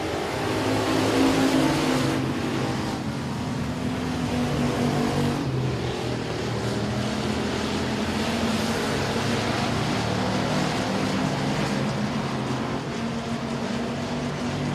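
Dirt track race cars roar continuously as a pack on the final lap of a heat race at the Louisiana Dirt Track State Championship. The engine noise is loud and sustained throughout, with no talking.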